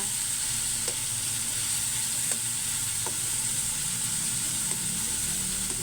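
Tomatoes sautéing in a pan with dried anchovies give a dense, steady, hissing sizzle, with a few faint taps of a spoon. Nobody speaks.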